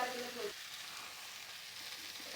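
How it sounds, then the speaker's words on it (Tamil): Cauliflower sautéing in a hot pan for a potato and cauliflower kurma, giving a steady, close frying sizzle at low level with no talk. "இப்போ நம்ம காலிஃப்ளவரை போட்டு நல்லா வதக்கிக்கலாம்."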